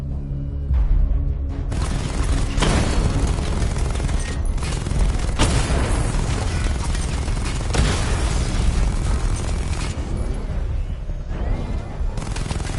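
Missile barrage explosions from Batman in Batman: Arkham Knight, with booming blasts and fusillade-like bursts rolling on continuously and loudly for the whole stretch, several heavier impacts standing out.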